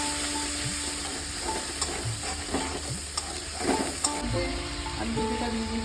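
A spice paste hits hot oil with whole cumin and sizzles, a steady crackling hiss with bursts of popping and the scrape of stirring, fairly close.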